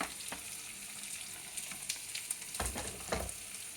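Spices for chole fry in hot oil with a steady close sizzle, broken by a few brief stirring scrapes.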